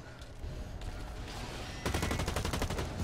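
Automatic gunfire crackles in the online shooter Blacklight: Retribution, a steady dense barrage that turns into a louder, fast regular rattle of shots in the second half.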